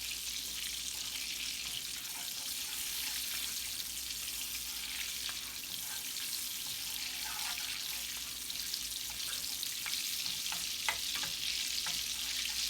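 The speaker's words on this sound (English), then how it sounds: "You just want to melt the butter." Butter melting in a hot pan before lamb chops go in, a steady bright sizzle hissing continuously with occasional small pops and crackles, close and fairly loud with no talking.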